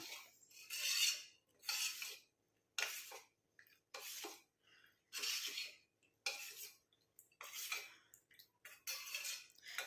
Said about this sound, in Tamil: இப்போ நல்லா நம்ம இதை வந்து கட்டிகள் இல்லாமல் மிக்ஸ் பண்ணி விட்டுக்கலாம்.